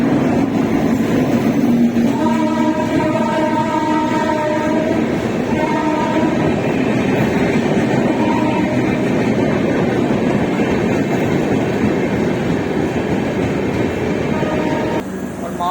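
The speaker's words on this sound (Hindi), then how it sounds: "और उधर 4 नंबर पे आ रही है पूरी कामाख्या एक्सप्रेस।" Kamakhya Express pulling into platform 4 at a railway station, a steady loud rumble of railcars with long horn blasts sounding twice early on, continuous and close throughout.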